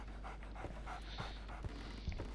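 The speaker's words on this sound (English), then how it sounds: "I can definitely hear a dog." A dog pants in the video game Sherlock Holmes The Awakened, a soft rhythmic run of quick breaths, moderately close and fairly quiet, heard alone over a low steady background hum.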